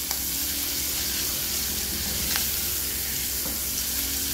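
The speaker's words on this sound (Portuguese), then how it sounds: "vou dar uma boa fritada nesse bacon" Seara bacon fries in a pan with a steady, dense, close sizzle that holds evenly throughout, with a couple of faint pops and no voices.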